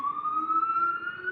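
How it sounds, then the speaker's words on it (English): An emergency siren wails steadily outdoors with a single rising tone that is loud and continuous, and a faint low rumble of road traffic sits beneath it. "we have the sirens here going off"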